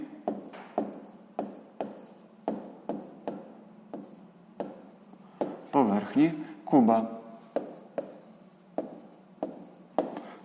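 Pen strokes on paper while working a sixth-grade math exercise on a cube's surface area: regular short scratchy taps and strokes, close and fairly quiet, with a brief voice murmur partway through.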